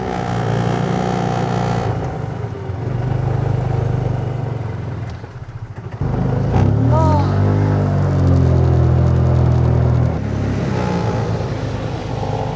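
A vehicle passes loudly through an RV park at night, a heavy engine rumble that swells, dips briefly, then surges close again before easing off.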